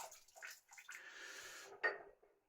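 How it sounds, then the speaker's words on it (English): Water is tipped out of a shaving soap bowl after blooming the soap, a short, quiet pour and splash at close range followed by a few faint drips. "I'm going to empty the water from the bowl so my brush is nice and wet and ready."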